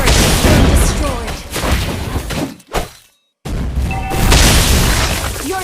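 Loud burst of explosion and crash effects as a turret is destroyed in the Mobile Legends mobile battle game, with dense layered impacts, a short dropout to near silence, then more booming effects.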